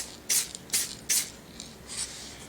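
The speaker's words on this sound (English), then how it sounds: "I'm going to shake this up, spray a couple times here" Short hissing bursts of spray paint hit a Power Rangers Lightning Collection Green Ranger figure, three quick close blasts followed by two softer, longer sprays.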